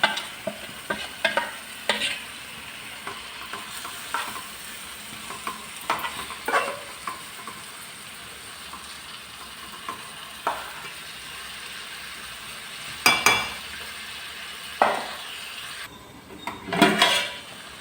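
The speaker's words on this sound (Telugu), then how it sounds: "ఇప్పుడు మనం ఈ చేప ఇందులో వేసుకుంటాం." Sardines fry in a pan for a curry while a utensil stirs and scrapes against the metal, giving intermittent clinks and scrapes over a soft steady sizzle, close and without talk.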